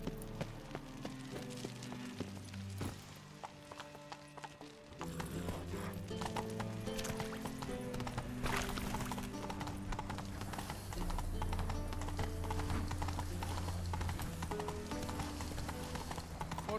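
Roach the horse gallops in The Witcher 3 on PS4, with steady, rapid hoofbeats that grow denser and louder midway over a constant game soundtrack and ambience, plus a brief whinny.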